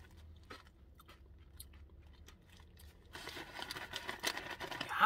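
Someone bites into and chews a pretzel-topped gourmet burger, giving soft, close crunching and crinkling bites that grow louder toward the end, with no talk.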